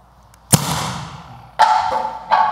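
A bottle explodes with a sharp bang when set off by a high-voltage electric spark in a classroom demonstration, followed by two more loud, abrupt pops that each ring briefly, all heard close with no talking.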